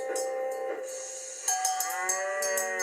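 Cows mooing in long, drawn-out calls, one after another, close and fairly loud.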